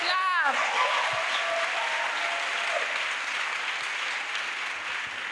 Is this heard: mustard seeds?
no